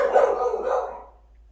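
A dog gives a couple of quick barks close by, a short burst of yaps that fades out within about a second.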